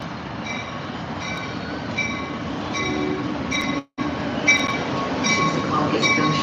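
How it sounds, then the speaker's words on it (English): A New Jersey Transit train pulls into Secaucus Junction with a steady rolling rumble, faint wheel squeals and metallic clicks that recur through the approach, heard from the platform with one brief dropout. "Say goodbye while this last train pulls in."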